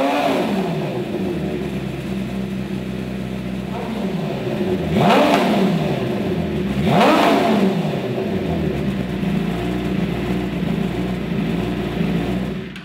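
A racing motorcycle engine idles with a rough, throbbing note, then revs sharply twice, each blip rising and falling back to a steady idle; loud and close, no voices over it.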